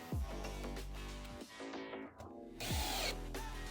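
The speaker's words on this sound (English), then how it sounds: "just pre-drill it." A power drill pre-drills a hole into a wooden art frame, two loud spin-ups each ramping to a steady whine and winding down, close and clear with no talking.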